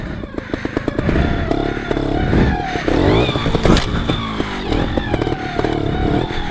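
A trials motorcycle ridden on a trail, its engine loud and close with rapid throttle blips and revving, plus clattering over rough ground throughout.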